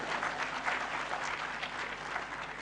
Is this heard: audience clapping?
yes